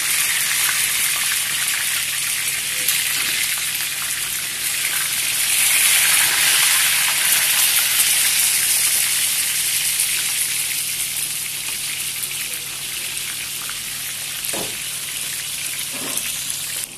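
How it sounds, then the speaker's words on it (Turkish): Eggplant pieces sizzle in hot oil, a steady loud crackling hiss throughout with a couple of faint clinks near the end. "Şöyle patlıcanlarımızı kızarttık arkadaşlar."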